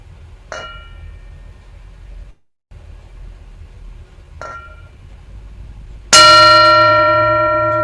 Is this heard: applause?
no